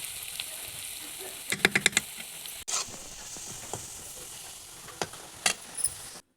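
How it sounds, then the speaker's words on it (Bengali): Onions frying in oil in a kadai hiss softly as a spatula scrapes and stirs, with bursts of sharp clicking taps and a low, steady sizzle, heard nearby and quiet without talk. "কড়াই তেল দিয়ে পেঁয়াজগুলোকে ভেজে নেব যতক্ষণ না পেঁয়াজগুলো লাল হয়ে আসছে"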